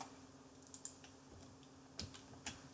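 Keys tapped on a TI-83 calculator keypad, a few soft, sparse clicks spaced irregularly over a quiet room hum, with no talking.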